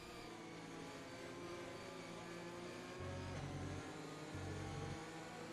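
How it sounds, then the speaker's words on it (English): Race car engine in a sim racing game of a Belgian Grand Prix, droning steadily then rising in pitch with two short revving bursts near the end, loud and continuous with no talk. "As Goran was just over-revving his car a tiny bit."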